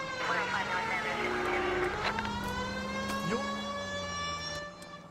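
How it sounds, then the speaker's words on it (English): Police car siren in L.A. Noire, an old-style wailing tone rising and falling over engine drone, with a voice talking over it. "I feel more comfortable with the siren on"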